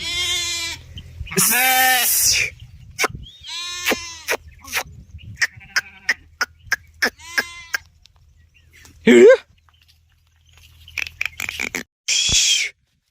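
Several loud, wavering sheep bleats nearby, separated by a series of sharp rhythmic clicks and quieter pauses, with another bleat near the end.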